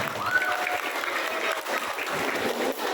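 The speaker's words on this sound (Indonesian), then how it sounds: "Tepuk tangan untuk semuanya." A room full of people clapping together at a boarding school gathering with a parliament member speaking, a soft, even patter of applause heard at some distance and sustained throughout.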